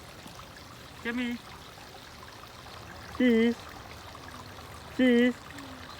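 Small stream in a nature center trickling as a faint, steady watery wash in the background, with short bursts of speech breaking in three times.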